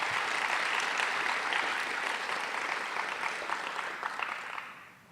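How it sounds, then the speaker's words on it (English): Audience applause at a youth scholars' graduation ceremony, steady dense clapping from many hands that holds for about five seconds before fading out at the end. "Please give Delaney a round of applause."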